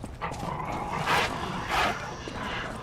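Dogs barking and yipping in the video game Lies of P, two louder bursts standing out over a steady background of game noise, with no talk.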